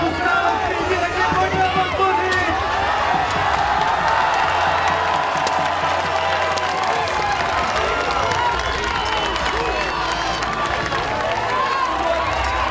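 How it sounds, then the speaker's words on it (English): Spectators in the stands at the 2015 Battle of the Nations in Prague, a 5 vs 5 armored medieval combat bout, roar and cheer in a dense, continuous wall of crowd noise that stays loud throughout. "the crowd is just going nuts whenever the Czech team takes to the field"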